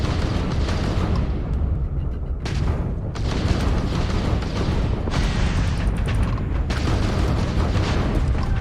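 Missiles exploding during a Starfield space battle, a loud, dense rumble of booms and blasts that keeps going for several seconds with brief dips, and no talk over it.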